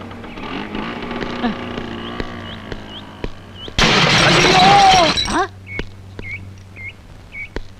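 A loud, abrupt crash of a scooter accident in a Tamil comedy film scene: sudden shattering burst lasting under two seconds, set amid talk and chirpy sound effects before and after.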